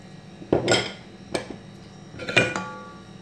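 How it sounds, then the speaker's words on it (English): Yam pieces stirred with seasoning cube and salt in a pot, three sharp metallic clinks of a spoon against the pot spaced about a second apart, quiet between them. "And just mix it together before putting it on heat."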